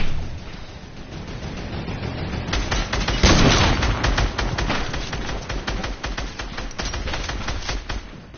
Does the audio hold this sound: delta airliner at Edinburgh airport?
no